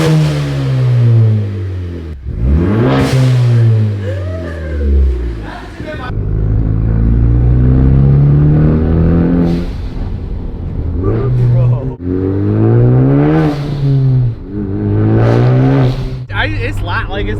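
A Ford Focus ST fitted with a Turbosmart blow-off valve revs repeatedly, loud, close engine surges with rising and falling pitch and sharp venting bursts between, while people talk.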